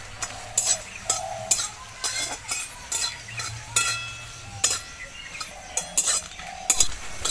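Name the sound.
dry red chillies stirred in a dry wok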